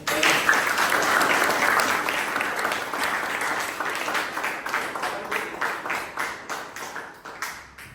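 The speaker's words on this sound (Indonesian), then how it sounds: "tepuk tangan untuk" Clapping from a small office group during an on-the-job training session, a dense burst that gradually thins into scattered individual claps and fades out.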